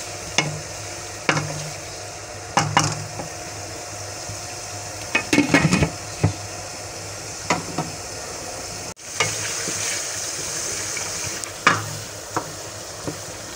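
Tomatoes fry in a pan with a steady low sizzle, punctuated by repeated spatula scrapes and clinks against the cookware.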